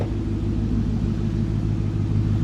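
A 2007 VW Transporter van fitted with a twin-turbo 4.2 V8 from a B7 Audi RS4 idles with a loud, steady, deep engine rumble, close by and unbroken, with no talk.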